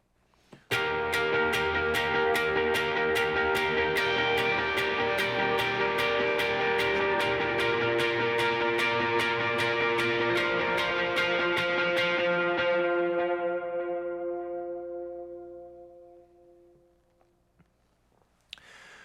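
An electric guitar plays a part of the worship song Be Lifted High with overdrive and effects, rhythmic strummed chords repeating loud and steady before ringing out and fading over the last seconds.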